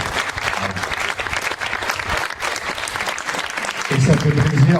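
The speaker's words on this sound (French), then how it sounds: "je voudrais qu'on vous applaudisse" An audience at a Miss Excellence Oise beauty pageant gala applauds in a dense, sustained burst of clapping, with voices rising over it near the end.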